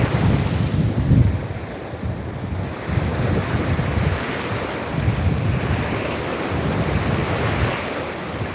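Ocean surf rolls onto a Hawaii shoreline in repeated washes, a broad roaring rush swelling every few seconds with gusty wind buffeting the microphone.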